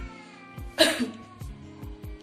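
A patient doing an effective-cough exercise as physiotherapy for COPD gives one loud, harsh cough burst with throat noise, close by. Soft background hum surrounds it, with faint thumps before and after.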